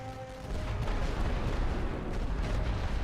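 Continuous heavy artillery fire in The Great War: Western Front, a dense, booming barrage of distant cannon blasts rumbling low and loud throughout, with a quieter lead-in before the firing swells.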